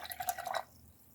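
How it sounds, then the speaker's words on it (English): Brush rinsed in a cup of water while painting acrylic roses, a brief close run of small drips and splashes lasting about half a second, then quiet. "Rinse off."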